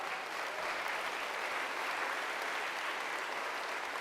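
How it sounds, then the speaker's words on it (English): Students at an Academy of Art University welcome event applaud the orientation leaders at the back of the hall; a steady, fairly faint wash of many hands clapping, heard from a distance. "Let's give them a big round of applause."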